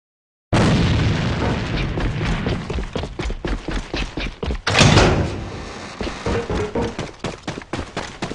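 In the shooter game AVA, a thrown grenade detonates in a heavy boom amid a dense run of rapid gunfire and impacts, loud and close, with the blast standing out midway through.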